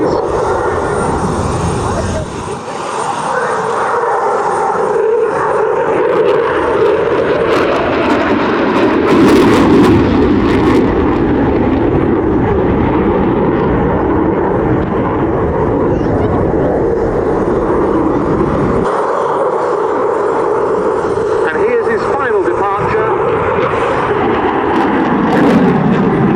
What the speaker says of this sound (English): Lieutenant Adam O'Hare down once again for a final fast pass, accelerating to around 500 knots, afterburner engaged on the two Eurojet EJ200 engines.